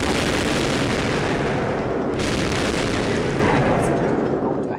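Battleship combat in the video game Civilization 3 with a World War 2 mod, pitting the Yamato against an American battleship: a dense, continuous roar of naval gunfire and explosions, loud throughout with a sharper burst near the end.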